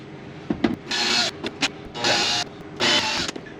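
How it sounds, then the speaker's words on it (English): Cordless drill or screwdriver backing screws out of a caravan vent screen, three sustained whirring bursts of about half a second each with short clicks and knocks between, close and fairly loud. "you grab your screwdriver or your drill and you pull all your screws out"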